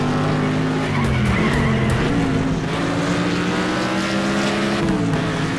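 Engine drone from a race car in Next Car Game runs under a long continuous tire squeal and skid as it brakes, loud and steady throughout.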